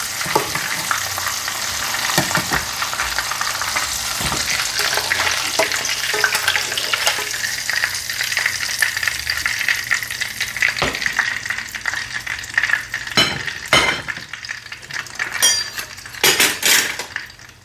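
Crisp-coated beef strips get their first fry in hot oil for crispy chilli beef, a dense bubbling sizzle up close, with occasional metallic clinks and utensil knocks, growing sharper toward the end.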